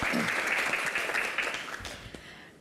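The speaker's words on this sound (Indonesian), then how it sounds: "Wah, tepuk tangan yang paling meriah." An audience in a hall gives a warm burst of applause, dense clapping that gradually fades over a couple of seconds.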